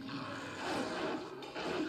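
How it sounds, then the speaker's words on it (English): A fearsome dog in a video game gives a deep, rough growling roar that runs steadily for about two seconds, close and loud, with no talk over it. "That dog sounds very fearsome."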